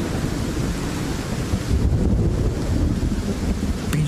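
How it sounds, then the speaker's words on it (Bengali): A storm sound effect in a Bengali audio drama: loud, roaring wind buffeting with a deep rumbling underlayer, continuous and dense across the whole stretch, with no voices over it. "এরপর ঝড় একটু কমলো বটে, কিন্তু শুরু হলো মুহুর্মুহু বজ্রপাত আর বৃষ্টি।"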